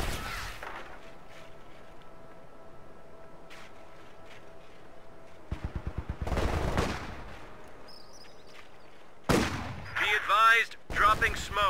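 Gunfire in the World War II strategy game Company of Heroes 2: a quick rattling burst of rapid shots midway, then loud clustered bangs and battle sounds near the end, with faint steady background noise between.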